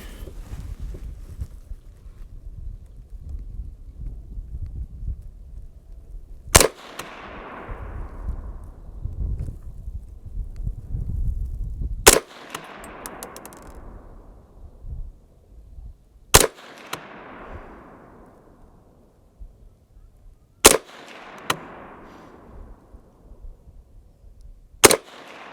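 A Savage A22 Magnum rifle fires at a target, five sharp, loud shots spaced several seconds apart, each followed by a brief fading echo, with quiet handling noise between.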